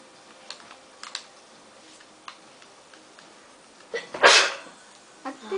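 One loud sneeze erupts near the microphone while playing Assassin's Creed IV Black Flag, set among sparse keyboard taps and clicks.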